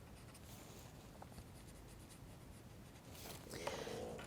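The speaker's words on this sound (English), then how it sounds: "I can actually push that down and start to create the shadow of it, just using the graphite that I already had on this paper" A paper stump, or tortillon, rubs graphite shading across drawing paper, making a soft, steady close scratching that runs throughout and grows slightly louder near the end.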